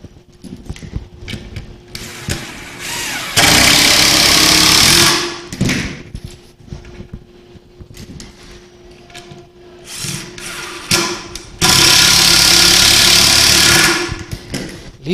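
A handheld power drill drives a screw into wood while an entertainment centre is built, giving loud sustained whirring bursts around 3.5–5 s and 11.5–14 s, with quieter handling and tool noise between them.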